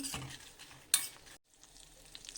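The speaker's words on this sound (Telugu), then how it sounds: "తర్వాత ఎండుమిర్చి వేసుకోవాలండి తర్వాత కరివేపాకు వేసుకోవాలండి ఇవన్నీ దోరగా ఫ్రై చేసుకోవాలండి" Dried red chillies and curry leaves stir-fry in oil for tempering gonguura dal, with a close, crackling sizzle, a sharp scrape of a spoon near one second, a brief silent gap, then quieter frying.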